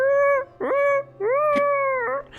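A voice imitates a three-pronged howl, calling from a ship's crow's nest: three drawn-out tonal howls, the first short, then a rising one and a long sustained final call, close and clear.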